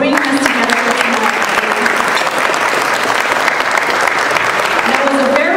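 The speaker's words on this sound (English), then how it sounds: "A round of applause for bringing this together for tonight." Loud, dense applause from an audience at an awards event, a sustained wash of many hands clapping at once that holds steady throughout without pause.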